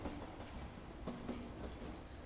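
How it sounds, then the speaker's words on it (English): Trains rattling along rails near a seaside pier, a steady mid-distance clickety-clack of wheels with metal-on-metal knocks and a faint squeal, continuous and fairly quiet throughout. "They would rattle, and the sound of metal on metal."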